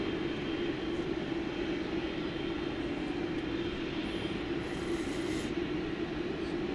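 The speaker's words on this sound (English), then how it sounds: "So it's flight 730 off to Doha on A350-1000." A Qatar-bound Airbus A350-1000 on flight 730 at DFW Airport gives off a steady, broad jet-engine rumble at moderate distance, holding constant throughout with no talk over it.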